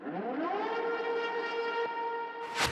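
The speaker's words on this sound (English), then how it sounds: "Prison sirens." Prison siren sample from a bass house production, a loud wailing tone rising in pitch then holding steady, ending with a sharp noisy burst.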